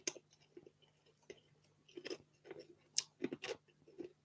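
Someone chews a crunchy Marks and Spencer snack up close, with irregular crisp bites and crunches in short bursts, no talking.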